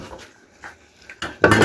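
A metal cooking pot is handled with a few scattered light clanks, then a louder clattering burst of metal knocking near the end, close by and without talk.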